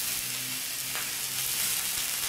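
Pork loin sizzling on a grill, a steady close frying hiss with faint crackles running throughout, no voices.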